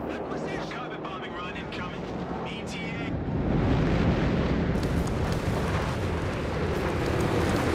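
Heavy explosions from a bombing run in the WWII strategy game Company of Heroes 3, a deep rumbling roar that swells and stays loud under aircraft-like noise, with a voice talking over the first few seconds.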